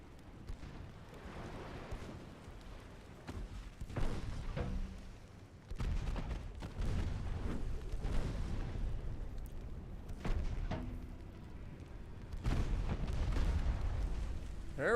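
Warship guns fire in the naval combat game Ultimate Admiral Dreadnoughts: repeated deep booms and rumbling blasts in uneven bursts, some close and heavy, others distant, filling the scene with no voices over them.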